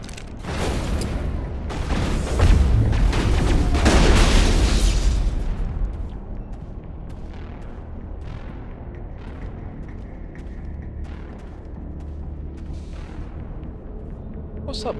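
Gunfire and explosions in the shooter game Mass Effect: a dense, loud run of booms and rapid shots over the first six seconds, then quieter scattered pops and clicks over a steady low rumble.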